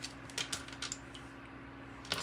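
Tarot cards being shuffled up close, a soft run of light clicks and riffles over a steady low hum during a tarot and oracle reading.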